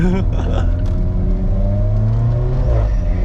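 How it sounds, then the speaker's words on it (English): An Alfa Romeo 4C on a track day pulls hard at full throttle in second gear, its engine note rising steadily as a loud, close, buzzing roar heard from inside the car, with a brief voice at the start. "Second gear pull, full throttle."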